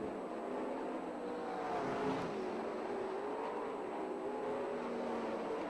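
Sprint cars lap the Perris Auto Speedway dirt track on the final lap of an SCRA heat race, engines droning steadily at a distance, rising and falling in pitch as they pass.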